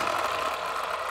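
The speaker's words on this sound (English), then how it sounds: "this actually has a friction motor. So if you push it," Toy MTA New York City bus with a friction motor being pushed, giving a short, continuous whirring rattle at close range.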